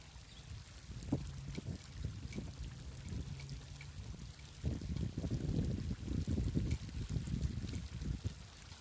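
Running water flows steadily in an outdoor setting, a soft continuous wash of streaming water that swells louder midway and keeps going without voices.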